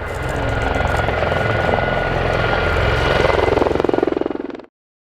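Gazelle helicopters fly a display at the RAF Cosford airshow, loud rotor chop and turbine whine thumping steadily close by, then cutting off abruptly near the end.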